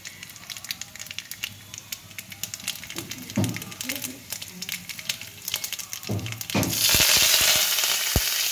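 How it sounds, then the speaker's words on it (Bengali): Dry chillies, black mustard seeds and curry leaves sizzle and crackle in hot oil for a tempering, popping bursts under a speaking voice, then the frying swells into a louder steady hiss near the end. "তেলের মধ্যে দিয়েছি শুকনো লঙ্কা, আর তার মধ্যে দেবো কালো সর্ষে, আর দেবো কারি পাতা দিয়ে একটা তড়কা বানাবো।"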